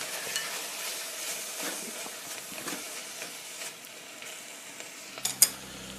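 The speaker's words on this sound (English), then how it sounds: "A little stir." Broccoli and courgette are stirred in a pan, giving a soft, continuous sizzle and hiss with faint scraping strokes, then a few sharper clatters near the end; no one speaks.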